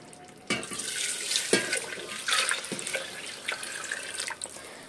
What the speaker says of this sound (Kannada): ನೋಡಿ ನಾನು ಇವಾಗ ನೀರು ಹಾಕ್ಕೊಂತ ಇದ್ದೀನಿ.